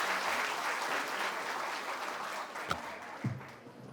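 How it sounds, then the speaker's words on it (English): Crowd applause for small children performing at a school annual day, a dense wash of clapping that slowly fades, followed by a couple of faint thumps. "Please give a huge round of applause again to our little tiny toads."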